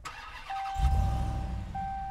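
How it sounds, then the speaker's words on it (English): A Ram TRX pickup truck engine cranks and catches, then settles into a low rumbling idle, close and fairly loud over a short span. "First thing you gotta do, turn the vehicle on"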